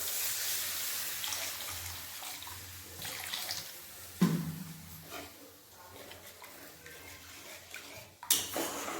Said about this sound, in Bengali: এরপরেতে জল দিয়ে দেবো